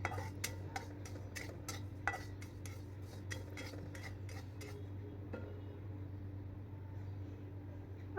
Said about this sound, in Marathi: मी शेगडीवर ठेवलेली आहे कढई आणि त्याच्यामध्ये तीळ मंद आचेवर भाजून घेते